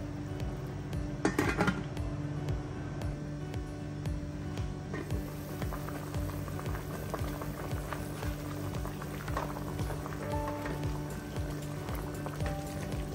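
A cooking pot of salmon-head sinigang with eggplant, okra and string beans clinks as its metal lid is set on, a sharp clatter early on over a steady bubbling boil that continues throughout.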